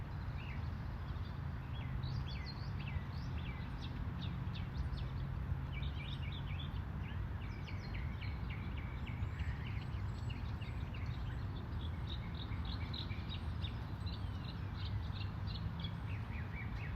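Northern Mockingbird perched in a palm tree sings a continuous series of varied chirps and mimicked phrases, moderately distant, over a steady low background rumble, with no voices.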